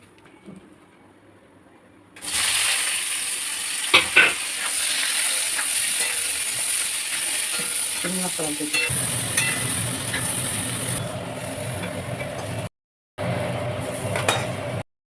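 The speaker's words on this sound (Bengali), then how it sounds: "এবার এঁচোড়টাকে ভেজে নেব" Green jackfruit pieces fry in hot oil in a kadai, a loud steady sizzle rising abruptly after a quiet start, with a spatula scraping and stirring through it and a brief dropout near the end.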